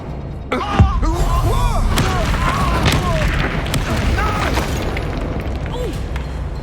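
The Expulso explosion spell in Hogwarts Legacy combat lands as a loud, sudden blast with a deep thud, followed by rumbling battle noise and voices talking over it.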